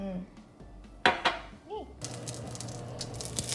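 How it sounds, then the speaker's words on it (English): Pans and utensils clatter briefly, then bell peppers hit the hot pan and a loud, steady sizzle takes over and continues. "Here's sizzling."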